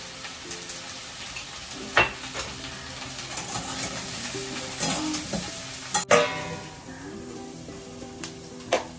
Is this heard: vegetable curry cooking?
yes